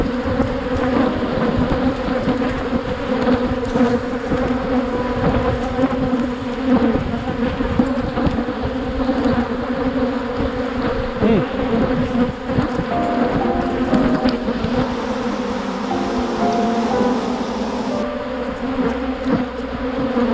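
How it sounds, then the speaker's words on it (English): A large swarm of agitated honey bees drones around an opened hive during a honey harvest, a dense, loud, continuous buzzing close around the microphone for the whole stretch, without talk. "Can you hear me over all the buzzing? Oh my goodness. The bees are going wild."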